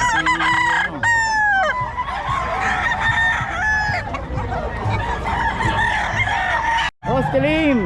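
Several roosters crow over and over at a busy chicken market, some close and loud, others farther off, with clucking and faint voices in the background throughout.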